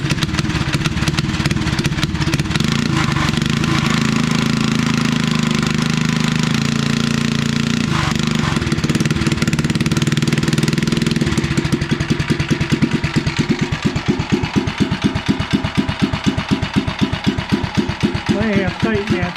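The cold small engine of a home-built REO trike, fitted with a new muffler and governor and started by recoil, rumbles to life. It settles into a loud, close idle with a steady thumping pulse.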